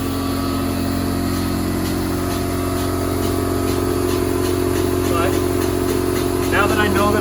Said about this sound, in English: But of course our air compressor goes off.